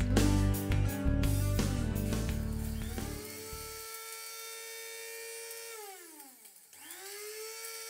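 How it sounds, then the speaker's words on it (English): Heinner Optim 150 electric grinder blending dried stevia leaves, a loud steady whine with a clattering rattle in the first seconds, then the motor's high tone slowing and dipping before it briefly rises again. "I will grind the stevia leaves that have already dried."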